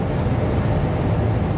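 Inside a moving Freightliner Explorer camper van built on a Mercedes Sprinter chassis with a Mercedes engine, a steady broadband road and engine rumble fills the cab, with some wind buffeting and no talking.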